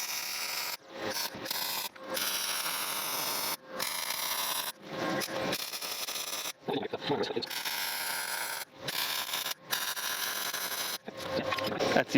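Welding the upper pipes of a custom dual exhaust on a Chevrolet Suburban: several long bursts of harsh, crackling arc noise, close and fairly loud, broken by short silent pauses between welds.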